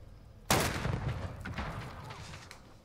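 Heavy gun in Call of Duty Warzone opens fire with a sudden loud burst, then sustained rapid shots that roll on and slowly fade, with no talk over them.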